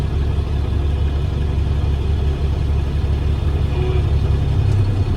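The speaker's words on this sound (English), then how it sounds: "I'm gonna release off the clutch slowly and allow the tractor to pull and tug one time" Tractor-trailer truck in first gear tugging against set trailer brakes: a loud, steady low engine rumble and drone close by, swelling slightly near the end as the rig strains.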